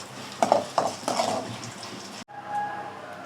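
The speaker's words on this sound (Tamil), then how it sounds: "மணத்தக்காளி வத்தலை நம்ம வறுத்து எடுத்துக்கலாம்." Dried manathakkali berries (vathal) roast in a pan with a few scraping stirs and a soft frying hiss. The sound cuts off abruptly partway through, and a quieter hum follows.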